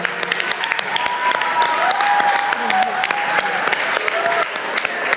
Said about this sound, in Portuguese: Uma salva de palmas e muito obrigado.